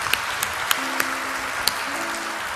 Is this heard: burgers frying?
no